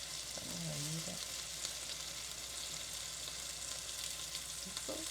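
Steak sizzles in a hot pan at a home stove, a soft steady crackling fizz close to the microphone, with a brief low murmured voice near the start and again at the end.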